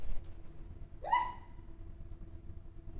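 A single short sneeze bursts out during a lecture, sharp and fairly close, over a low steady background hum.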